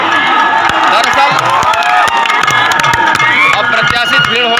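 A dense crowd at a Mayawati election rally in Kaimur keeps up loud, continuous shouting and cheering, with many overlapping voices and scattered claps close by throughout.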